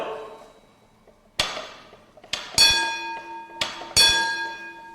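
Sharp metallic bell strikes from a trolley's signal bells ring out, single clangs then doubled ones, each leaving a bright lingering tone.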